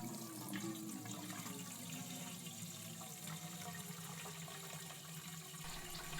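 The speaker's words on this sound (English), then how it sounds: "Equip the bottle of water and pour it into the vat using Q and E" Water pouring from a bottle into a brewing vat in the Beer Manufacture Simulator game, a steady continuous splashing flow lasting several seconds at moderate level.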